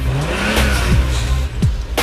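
A Lamborghini engine revs loudly and close up, with several quick rising whooshes as the car passes by, and no talk over it.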